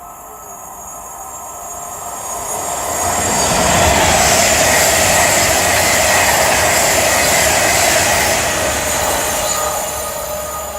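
Avanti West Coast class 390 unit 390049 passes through Nuneaton on the West Coast Main Line, a rushing roar swelling to a loud peak mid-way and easing off slightly at the end, with no voices.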